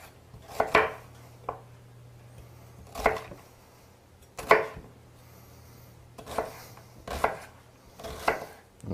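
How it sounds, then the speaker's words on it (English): A knife dices onions on a board in firm, evenly spaced chops, about eight strikes with short pauses between, over a faint low hum. "And we're just dicing that, and again, not too fine."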